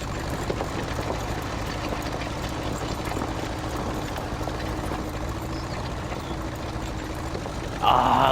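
A tractor engine in Farming Simulator 19 drones steadily at a low idle-like rumble, loud and continuous, with a brief brighter noise at the very end.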